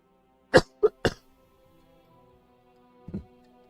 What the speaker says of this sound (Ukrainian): Вибачте за кашель.